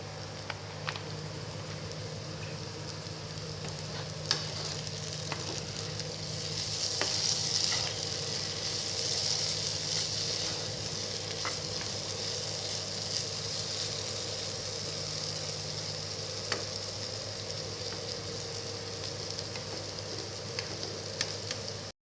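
Pumpkin fries in coconut oil in a pan, a steady soft sizzle with occasional stirring scrapes, swelling slightly midway, close and moderately quiet with no speech.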